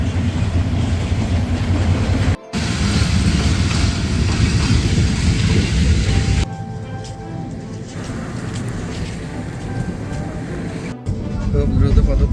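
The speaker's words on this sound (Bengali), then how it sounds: "আর এদিকে ট্রেনে চলে আসছে আমাদেরকে খুব দ্রুত চলে যেতে হবে।" A train approaches along a railway line, producing a continuous heavy rumble and roar that rises and shifts in loudness through the clip, heard close by.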